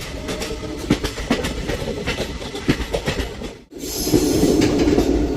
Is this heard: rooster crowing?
no